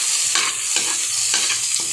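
Tilapia goes into a hot pan with cooked-down tomatoes, sizzling loudly with repeated bursts of frying hiss as it is stirred and moved around, no voices.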